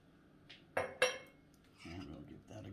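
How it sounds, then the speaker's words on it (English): A spoon clinks and scrapes against a bowl while tandoori chicken marinade with mustard oil and lemon juice is stirred, a few sharp knocks followed by softer scraping and mixing. "And we'll give that a good mix."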